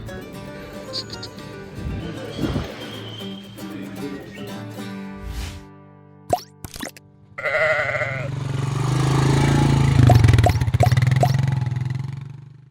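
Sheep and lambs bleat repeatedly from a load of lambs and ewes being brought in, wavering calls overlapping near and far, with an engine rumble building underneath and some talk.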